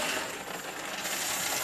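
Coins poured and dropped in a steady rattling cascade during a Fort Boyard treasure challenge, a dense continuous metallic jingle lasting throughout, fairly close, with no talk.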